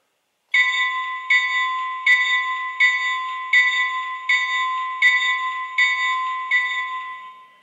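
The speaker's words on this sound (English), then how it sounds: "Here's the bell." A Lionel Amtrak F40PH "Cabbage" model locomotive bell clangs at a steady, even pace, about nine ringing strikes that each linger and overlap, loud and alone.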